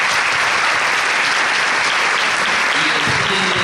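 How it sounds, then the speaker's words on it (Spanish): A community audience at a school talk on sex education giving a strong round of applause, loud, dense clapping that runs unbroken through the whole moment. "la comunidad te agradece con este aplauso fuerte"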